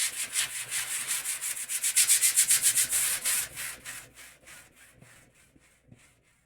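Dollar Tree sanding block rubbed back and forth on a canvas, a close, rhythmic scratchy rasp of quick strokes that grows louder mid-way, then slows into spaced, fading strokes.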